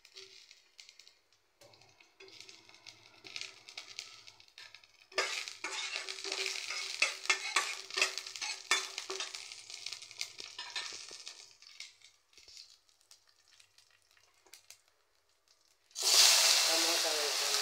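Crushed garlic fries in a pan for tomato rasam, giving a close, crackling sizzle with stirring scrapes that swells loudly after a quiet opening and then eases off, before a sudden hiss at the end.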